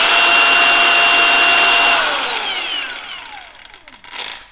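A Milwaukee M18 FUEL 4-1/2-inch/5-inch paddle-switch grinder, model 2780-20, whines loudly at full speed, then its pitch falls steadily as it spins down after release, fading toward quiet.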